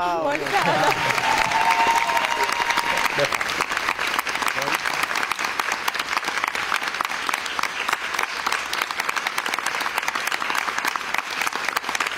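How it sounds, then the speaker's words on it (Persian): A studio audience at a quiz show breaks into sustained, even applause that runs for about twelve seconds at a steady level, with a brief voice heard over the opening moments. "تشویق"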